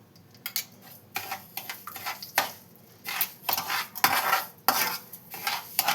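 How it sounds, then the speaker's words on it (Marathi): Semolina roasting in ghee is stirred and scraped around a metal pan, giving repeated clinks and scrapes in uneven bursts, close and fairly clear, with no talk. "सुजी भाजण्याच्या हिसाबाने आपण तूप टाकायचं."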